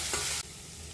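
Carrot and cabbage stir-frying in a pan, a loud close sizzle with a stirring scrape that cuts off abruptly, leaving a softer steady frying hiss.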